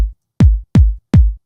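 A processed house music kick drum sample, tight and punchy, struck three times in quick succession, with a sharp click on each attack and a short low thump.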